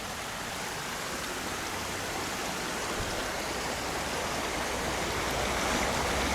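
A creek in Great Smoky Mountains National Park flows with a continuous rush, a steady, broad hiss and low burble, even and unbroken throughout.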